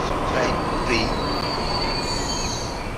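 Passenger trains roll through a Transport Fever 2 railway scene with a steady, loud rumble of cars on rails. Thin, high wheel squeals drift over the continuous noise, and no one talks.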